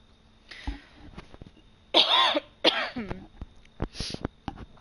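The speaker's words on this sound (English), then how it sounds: "I'm gonna try and mute you guys every time I'm coughing." A person coughs several times in close, sharp bursts with short pauses between, separated by faint clicks and quiet background.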